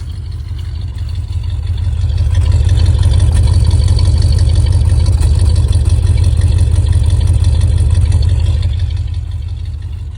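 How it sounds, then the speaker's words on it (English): A steady, deep engine idle with a low rumbling exhaust throb, constant and close, swelling slightly in the middle before easing back. "get a listen to the exhaust at idle"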